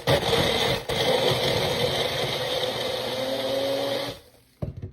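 A Magic Bullet blender whirs loudly and steadily, blending coffee with caramel skinny syrup and protein shake, running continuously for about four seconds before cutting off abruptly.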